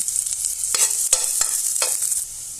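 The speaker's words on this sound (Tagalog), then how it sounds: "magigisa na tayo ng bawang" Garlic sautéing in a pan for a chicken kaldereta: a loud, close sizzle broken by several sharp stirring scrapes, with no voices.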